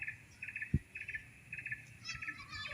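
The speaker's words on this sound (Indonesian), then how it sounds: "Suara burung" Birds chirp in short repeated bright bursts against a quiet forest background, with a soft thump and faint insect-like trills.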